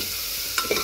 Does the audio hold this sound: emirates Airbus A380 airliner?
no